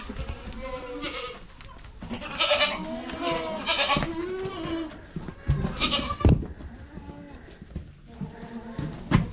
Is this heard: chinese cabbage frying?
no